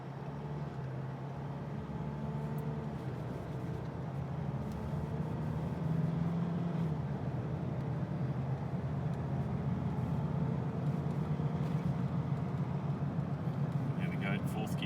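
Mitsubishi Challenger/Triton MN with an automatic transmission pulling away from a standstill and accelerating, a steady low engine drone rising gradually through the gears at moderate loudness.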